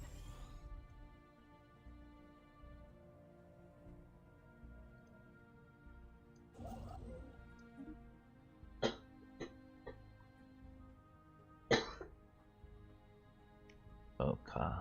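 A few sharp coughs, spaced apart and growing louder near the end, over a quiet humming background.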